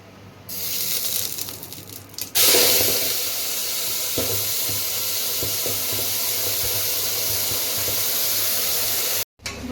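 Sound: masala paste frying in a pan

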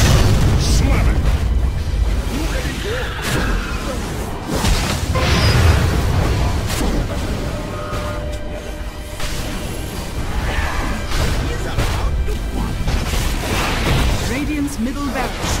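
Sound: Earthshaker slam explosions in video game Dota 2

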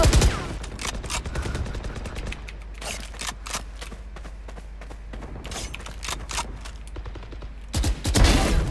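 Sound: gunfire in a shooting video game

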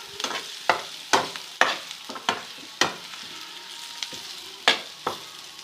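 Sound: gram flour (besan) roasting with green chillies in a pan

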